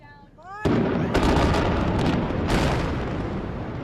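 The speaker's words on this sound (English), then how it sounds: "That's the sound of 22 million pounds of steel coming down in a controlled blast." Controlled demolition blast bringing down an old 22-million-pound steel span of the Kosciuszko Bridge between Brooklyn and Queens: a brief tonal call, then a sudden loud boom, then a sustained roaring rumble punctuated by further sharp cracks.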